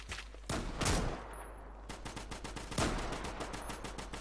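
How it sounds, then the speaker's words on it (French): A machine gun in a World War I game in Garry's Mod fires rapid bursts, with sharp loud blasts at the start and midway followed by quick, evenly spaced rattling shots and no talking. "J'ai trouvé la mitrailleuse."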